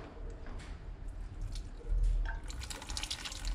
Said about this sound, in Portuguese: Olha aqui onde tá pingando.